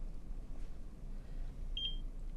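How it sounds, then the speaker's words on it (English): Two short electronic beeps from a Nira Pro laser hair removal device sound in quick succession, clear but fairly quiet over a low background hum. "when it beeps, you change the area"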